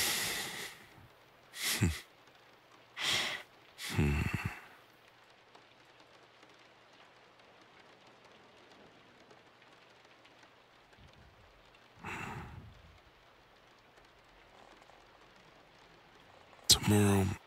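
Soft, steady rain patters faintly in the background throughout, broken by a few brief breathy whispers and a short murmured sound, in a quiet, intimate indoor setting.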